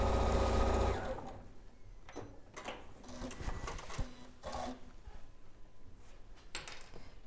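A sewing machine stitches a quarter-inch seam on a flower tote bag, a loud steady whir for about a second and then quieter intermittent stitching with small clicks and handling noises.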